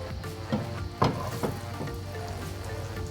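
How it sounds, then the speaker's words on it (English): Onions, scallions, pepper and garlic sauté over low heat in a pan, giving a steady soft sizzle with a few louder stirring bumps, heard alone and close. "saute just the onions, the scallions, the pepper, and the garlic"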